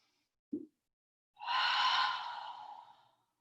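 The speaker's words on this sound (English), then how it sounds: "Take a deep breath in." A single deep breath during a yoga stretch: a short puff of air, then a long, soft, airy inhalation close to the ear that fades out gradually, with no one speaking.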